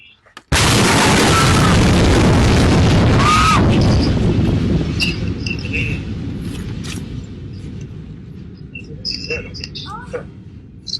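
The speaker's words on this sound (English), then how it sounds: "After being sent flying by this BBC explosion in Beirut." A huge explosion in Beirut bursts in suddenly with a loud, wide roar, then rolls on in a long rumbling decay over several seconds as faint voices and scattered noises emerge near the end.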